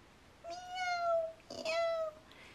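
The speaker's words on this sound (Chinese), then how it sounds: "那里喵喵，到处都喵喵。" A cat gives two drawn-out meows in quick succession, close and clear, the second one slightly shorter, against a quiet background.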